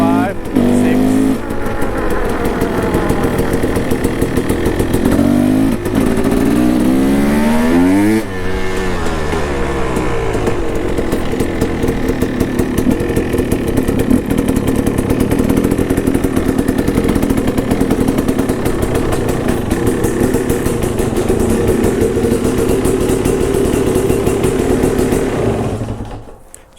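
Two-stroke dirt bike with a new cylinder and six-speed gearbox running loudly nearby, revving up and falling back early on, then holding a steady buzzing drone before cutting off at the end.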